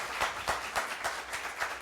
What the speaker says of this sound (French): Je demande d'applaudir Adassa